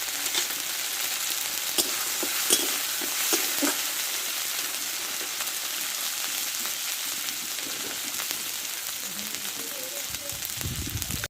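Ground mustard spice paste with turmeric and tomato for a bata fish curry fries in a pan with a constant close sizzle, broken by scattered spatula stirring and scraping knocks.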